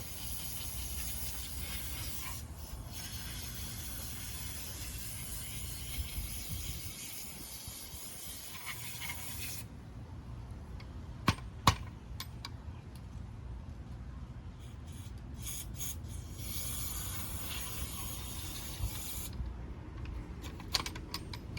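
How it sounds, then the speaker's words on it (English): Long bursts of aerosol spray hissing while cleaning a portable generator, close and steady, broken by short pauses and a few faint clicks and taps between bursts. "Let me spray this out real quick."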